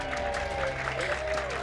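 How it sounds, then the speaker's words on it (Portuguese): Crowd of people applauding and cheering as a couple arrives home to see their transformed house, a dense continuous clatter of clapping with mixed voices throughout. "Dona Lu, recebida com aplausos."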